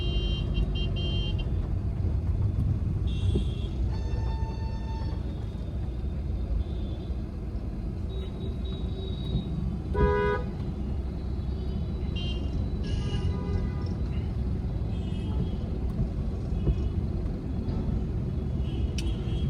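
Inside a Volkswagen Vento 1.5 TDI DSG driving in light rain: a steady low cabin rumble of road and engine noise, with faint distant horn toots and a brief chime partway through.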